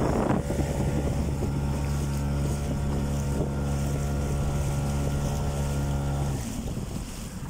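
A model boat with a Mikatsu 4 motor and a 7.5-inch propeller of 7-inch pitch runs on open water, its steady high-pitched buzz loud and close, with wind noise over the microphone, before fading near the end.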